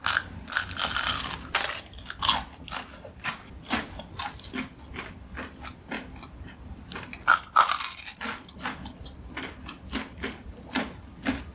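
Someone bites and chews crispy deep-fried battered eggplant and sweet potato, repeated crunchy crackling bites and chews at close range, with no talking.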